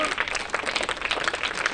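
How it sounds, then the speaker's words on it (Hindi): A short burst of clapping as a school audience of children welcomes a teacher, dense and fairly loud for the whole moment, with voices faintly mixed in. "सर का स्वागत करेंगे तालियों के साथ"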